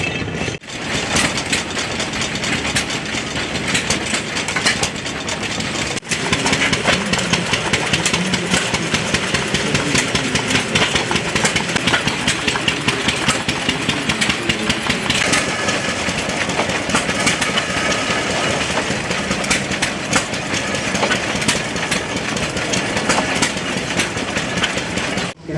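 An antique threading and bolt-making machine at a steam and gas engine show runs without pause while cutting threads into a wooden dowel, a loud, dense mechanical clatter with rhythmic clicking that stays even throughout.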